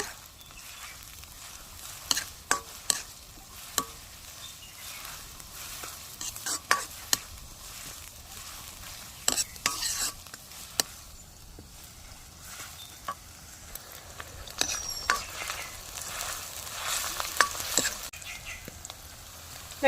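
Onions frying in a pan while being stirred for chicken sukka, a faint steady sizzle with scattered sharp scrapes and clinks of the stirring utensil, with a little distant talk.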